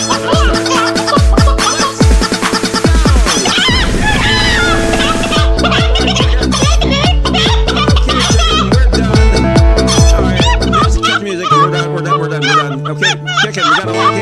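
Loud chicken clucking and gobble-like squawks come in rapid repeated bursts throughout, with a voice talking over part of it.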